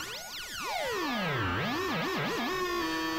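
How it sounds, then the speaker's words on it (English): A modular synth oscillator driven by a very fast repeating envelope produces a metallic, ringing tone with sweeping pitches that dive and wobble before settling into a steady hum, fairly quiet and alone. "This is just this oscillator being driven by a repeating envelope, but it goes so fast that it's like metallic"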